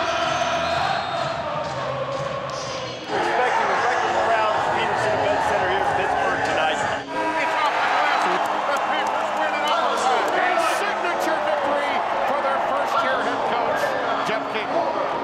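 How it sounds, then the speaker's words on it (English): Crowd in the Fieldhouse at a Pitt Panthers wrestling match cheering and roaring in a large indoor arena, a dense sustained wall of noise that surges at moments, with a narrator speaking over it. "And the growing crowds of the Fieldhouse."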